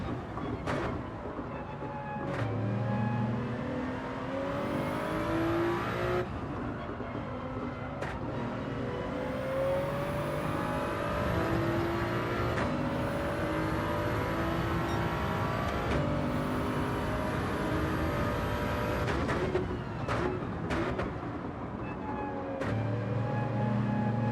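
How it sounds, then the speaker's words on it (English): Race car engine in Gran Turismo 7, a steady loud drone with rising and falling revs and gear shifts through the whole stretch, playing alone without talk. "my car is driving weird"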